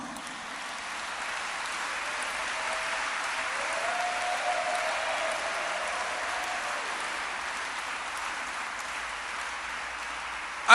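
Church congregation applauding in praise during a French-language worship service, a steady, sustained wash of clapping that holds evenly for around ten seconds with no voices over it.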